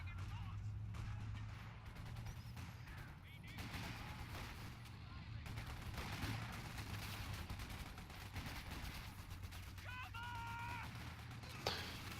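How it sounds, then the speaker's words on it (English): A light infantry gun (Geschütz) fires in a Battle for Caen war video game. Faint booms and scattered shots blend into a constant rumbling battlefield ambience. "Light infantry Geschütz firing."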